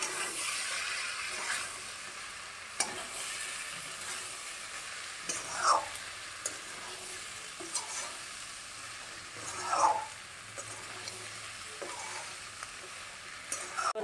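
Chana ghugni, a chickpea curry, sizzles in a pan while being stirred, a steady frying hiss broken by two louder scraping stirs, with no talking.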